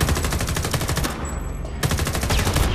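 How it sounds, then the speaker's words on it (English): Rapid automatic gunfire from the Homefront The Revolution video game rattles in dense, loud bursts, breaks off briefly, then resumes. "Where's the other guy that's shooting me?"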